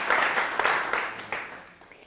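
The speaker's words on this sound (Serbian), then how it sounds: "Dobro, hvala lijepo i aplauz za negaciju." An audience at a televised debate in Bosnia and Herzegovina claps for the negation team: a burst of crowd applause with dense patter that swells briefly, then gradually fades away.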